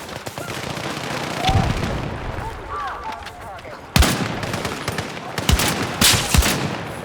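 Bursts of gunfire in Battlefield 6 crack out in sharp clusters, some single sniper rifle shots and some rapid automatic fire, with faint background sounds between them.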